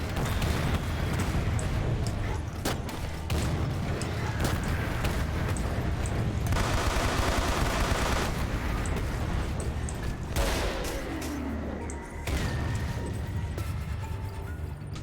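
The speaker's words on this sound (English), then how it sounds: "Those incendiary grenades really don't do a lot." Loud, continuous video-game combat with rumbling blasts, bursts of gunfire and incendiary grenade detonations over fifteen seconds, dense and sustained with a few sharper impacts.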